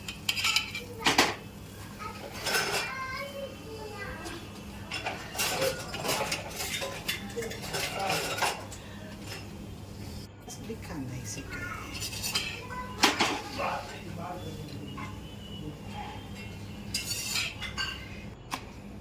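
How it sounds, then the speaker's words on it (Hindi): A bathua aloo paratha cooking on a pan over medium flame as a spoon presses it down, with repeated metallic clinks and scrapes of spoon on pan under a low hum and a person talking. "हल्के हाथों से चम्मच से दबाकर हम सेकेंगे"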